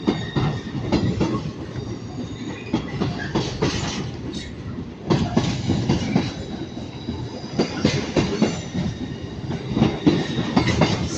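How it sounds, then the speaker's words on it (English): An Avanti West Coast passenger train pulls out of Manchester Piccadilly bound for London Euston, with a steady rumble of wheels and repeated clickety-clack over rail joints, loud and sustained on the platform. "And departing is 39138, working the 1334 Avanti West Coast service to London Euston."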